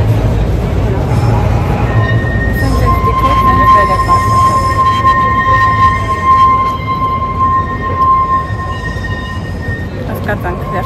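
A yellow Lisbon tram moves along its rails with a steady, close rumble and a thin, sustained wheel squeal running through most of the passage, and voices murmur faintly in the background.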